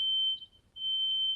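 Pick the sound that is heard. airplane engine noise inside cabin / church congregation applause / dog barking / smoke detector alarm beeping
smoke detector alarm beeping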